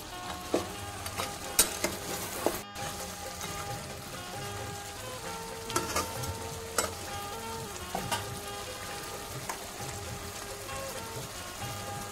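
Mutton pieces sizzle and fry in a pan for a thin mutton curry with potatoes, with steady frying hiss under repeated scraping and clinking stirs at a close, moderate level.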